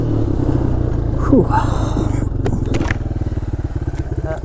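A 1983 Yamaha Tri-Moto 200 three-wheeler runs close by in spring snow, its engine chugging in a steady rhythm that rises into a brief rev, with a person exhaling under the running motor.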